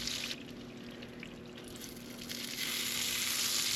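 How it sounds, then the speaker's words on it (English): Steaks searing in a hot pan give off a steady, close sizzle that grows a little louder toward the end, with no talking over it. "I'm going to sear them off in here"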